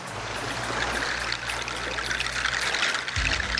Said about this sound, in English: He's beating the water with coconut shells.